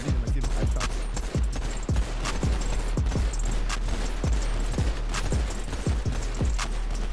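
Gunshots in GTA V roleplay, a series of sharp, evenly spaced cracks, roughly a dozen in quick rhythm over a steady background hum, close and loud.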